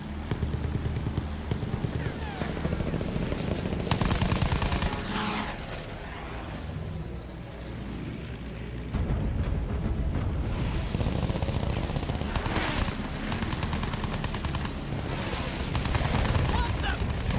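Aircraft gunfire in the Battlefield 1 campaign, with rapid machine-gun bursts and rattling fusillades over engine drone and battle noise, loud and continuous with shouted voices mixed in.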